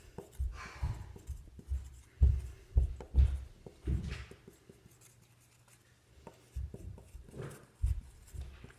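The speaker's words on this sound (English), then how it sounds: "We're writing that down for you." Pen or marker writing on a board or paper during a lesson on speed and velocity, a series of close, uneven scratchy strokes and taps, with a brief pause before more strokes resume.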